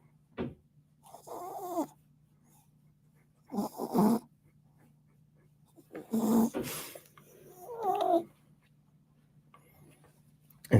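A small excited dog snorts and snores in short bursts after being picked up, with quiet pauses between the snuffling breaths, close by and fairly soft.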